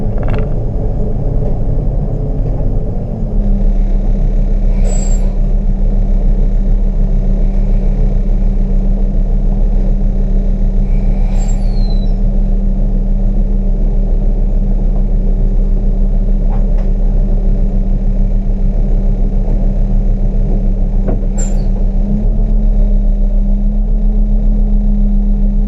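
Marcopolo G4 coach bus on a Mercedes-Benz O-371R chassis, heard from the driver's seat as a loud, constant low diesel rumble that shifts pitch once early and once late, with occasional faint high squeaks.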